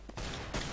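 Gunfire in CS:GO: a short, sharp burst of two close shots in under a second, loud against a quiet background.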